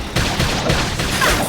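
Rapid gunfire bursts from the video game Xenoblade Chronicles X, loud dense volleys of overlapping shots spread across a short moment of battle.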